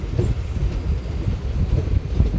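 The Vijayawada–Macherla MEMU Express rolls along, a steady low rumble with faint rhythmic rattling from the cars, heard close and loud from on board, no voices.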